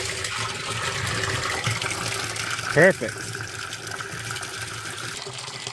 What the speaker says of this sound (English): Let's turn the valve on and see if we have water.